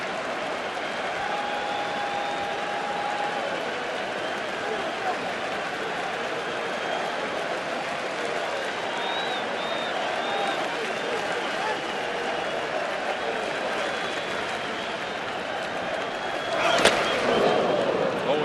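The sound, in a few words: baseball stadium crowd cheering and applauding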